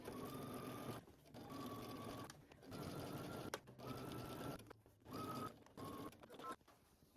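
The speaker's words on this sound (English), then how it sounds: "you're going to stitch close, about maybe a 1/16 of an inch or an 1/8 of an inch away from your seam" Sewing machine understitching a yoke facing close to the seam, running in several short bursts of rapid whirring stitches separated by brief pauses, fairly quiet and close.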